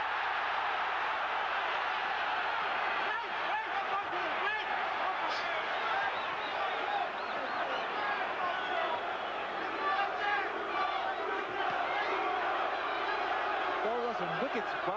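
Boxing match crowd at a heavyweight title fight, a dense roar of cheering and hubbub filling the arena steadily, with a commentator talking over it.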